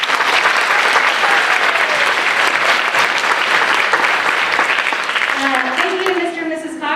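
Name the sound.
audience applause for school administrators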